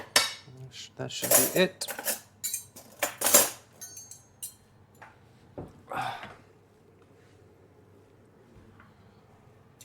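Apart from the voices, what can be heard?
cutlery and dishes clinking while searching for a special knife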